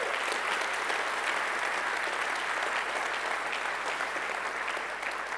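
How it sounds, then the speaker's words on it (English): An audience at the AtlasCamp 2016 Shipit Live closing keynote applauds the contestants with steady, full clapping that holds for several seconds and eases off slightly at the end. "Huge round of applause to all the contestants."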